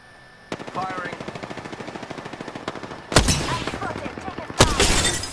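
Sustained automatic gunfire rattles in a video game, a fast steady stream of shots up close, broken by two loud heavy blasts near the end.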